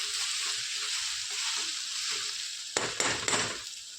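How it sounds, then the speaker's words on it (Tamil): Mushroom and tofu dry-frying in a pan, a steady faint sizzle with a few sharp stirring scrapes near the end, close and without voices. "இப்போ நல்லா ட்ரையாக வறுத்துட்டோங்க"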